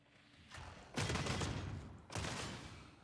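Boltgun shots in the Warhammer 40K: Darktide video game, a couple of heavy booming blasts with long rumbling tails, close and loud with no talking.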